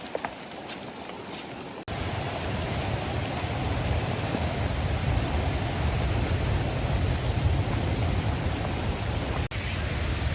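Heavy rain on a coastal trail on Kauai, Hawaii pours down in a steady, dense hiss that starts abruptly and holds at constant loudness before briefly cutting off near the end.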